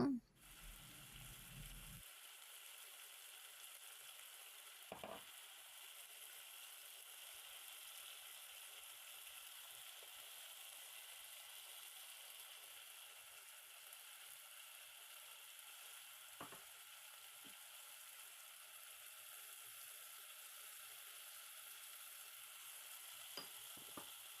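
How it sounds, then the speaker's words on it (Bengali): Ground spices of chili, turmeric, coriander and cumin sizzling in a frying pan, a faint steady hiss with a few scraping stir sounds. "মশলাগুলো দেওয়ার পর এখন আমি নাড়াচাড়া করে দেব।"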